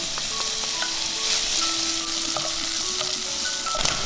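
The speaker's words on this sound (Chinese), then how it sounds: "重新起锅，加入少许油，把肉末放进来煮香。 接着把香菇放进来" Minced pork and shiitake mushrooms frying in a little oil in a pot, a steady close sizzle with scattered pops and occasional spatula scrapes, alone without talk.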